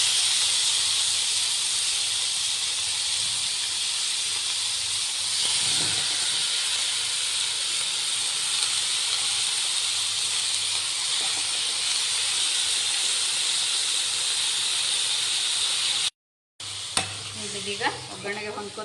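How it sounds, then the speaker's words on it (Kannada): Chopped cabbage hits hot oil tempering for cabbage palya and sets off a loud, continuous hiss and sizzle. The sizzle holds steady, cuts out briefly, then returns with stirring clinks. "ನಾನಿಲ್ಲಿ ಕಟ್ ಮಾಡ್ಕೊಂಡಿರೋ ಕ್ಯಾಬೇಜ್ನ ಹಾಕ್ತಾಯಿದ್ದೀನಿ."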